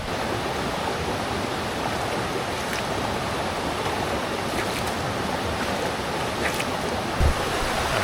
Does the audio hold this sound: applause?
no